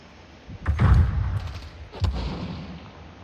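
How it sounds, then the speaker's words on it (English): Gunfire in Call of Duty Modern Warfare during a hardcore team deathmatch: two heavy, booming shots about a second apart, loud and close, with rumbling tails and no talk. "He's shooting by me."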